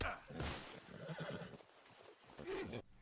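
A horse in Red Dead Redemption 2 gives a loud, agitated neigh and whinny with some hoof clopping, the sounds rising and falling over a few seconds.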